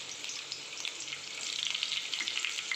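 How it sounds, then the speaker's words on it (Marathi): Green chillies fry in a pan on a gas flame, a steady close hiss and crackle that grows a little louder and busier toward the end, with no voices. "मी पॅन ठेवलेला आहे गॅसवर आता त्यात मी मिरच्या टाकून देतो"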